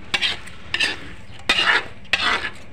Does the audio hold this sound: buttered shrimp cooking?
yes